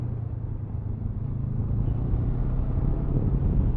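A 2023 Honda CB500X motorcycle engine riding in third gear, a steady low rumble mixed with wind rush, gradually growing slightly louder as the bike accelerates, with no speech.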